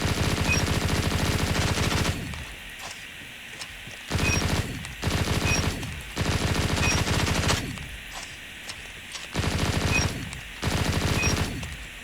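PPSH-41 submachine gun firing in a ranked video game match, loud sustained automatic bursts of about two seconds each, repeated several times with short gaps between, no talking.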